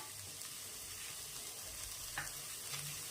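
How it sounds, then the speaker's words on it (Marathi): Onion, garlic and chopped coconut roasting in a pan, giving a faint, steady crackling sizzle with soft stirring scrapes, no talking. "ह्याला असं छान भाजून घ्यायचं"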